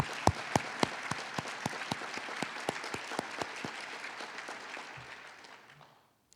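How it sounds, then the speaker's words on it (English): Audience applause at a university scholarship luncheon, a steady round of clapping with distinct claps standing out, moderately loud at first and gradually fading away. "I think we owe her a round of applause for that"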